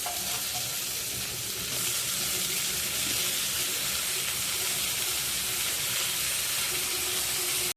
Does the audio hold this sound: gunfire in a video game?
no